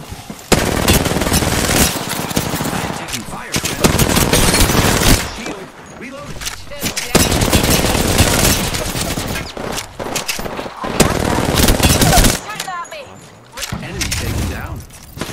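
Shooter video game gunfire, long loud bursts of rapid automatic shots broken by brief pauses, dense and close throughout, while players talk over the action.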